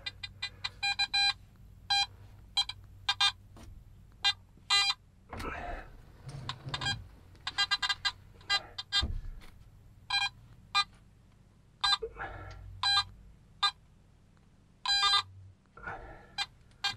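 Metal detector, a Garrett AT Max, beeping repeatedly in a crawl space of an early-1900s house as it passes insulation with aluminum, sharp bursts of tones with brief gaps, some rustling between.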